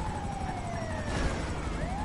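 A wailing ambulance siren in a video game sweeps up and down steadily for a couple of seconds, loud and continuous over game background noise, with no talk.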